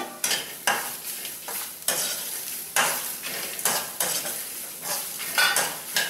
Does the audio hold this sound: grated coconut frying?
yes